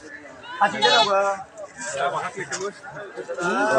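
At a crowded goat market, native goats bleat in short wavering calls mixed into steady chatter from the people around them.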